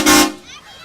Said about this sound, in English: a lot of people jump down this road, Carlin, after that horn honk.